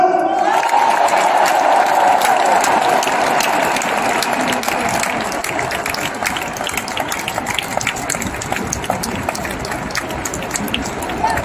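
Sustained applause from a large crowd at an Emmanuel Macron campaign rally, dense clapping that fills the space and slowly thins toward the end.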